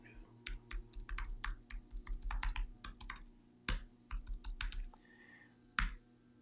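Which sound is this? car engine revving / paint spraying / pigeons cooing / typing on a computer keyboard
typing on a computer keyboard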